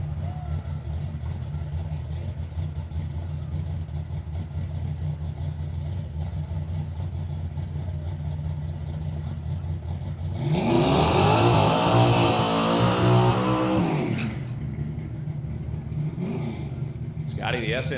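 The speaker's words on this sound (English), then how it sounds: "the SN97 Mustang based out of Dickinson." SN97 Mustang Limited Street drag racing car at a drag strip, engine idling with a low rumble before a loud burst of revving for several seconds, then dropping back to idle.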